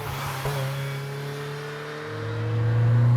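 A 1999 Ferrari F355's flat-plane-crank, small-displacement V8 with an 8,500 rpm redline drones steadily up close, its pitch climbing near the end as the revs rise, with no voices over it.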